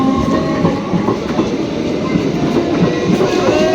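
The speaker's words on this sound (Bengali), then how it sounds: "দেখো দেখে দাও ট্রেন চলে গেল আমাদের" A train rolls past close by, a loud continuous rumble with rhythmic wheel clatter over the rails, steady throughout the short stretch.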